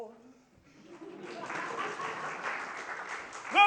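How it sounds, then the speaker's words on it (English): An audience claps steadily after a recitation of nonsense verse in a staged Alice in Wonderland scene, the applause swelling in after a pause and ending with a brief voice at the close. "You may applaud."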